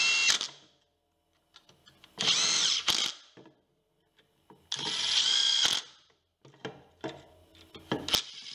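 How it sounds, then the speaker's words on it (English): Bolts are driven into an alternator converted into a brushless DC motor with a power drill, several short whirring bursts separated by pauses, with clicks and metallic handling of parts between them. "align the screw holes, put in the bolts,"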